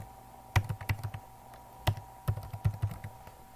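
Typing an ID card number on a computer keyboard, with two short bursts of crisp, close key taps at an irregular rhythm and a brief pause between them. No voices.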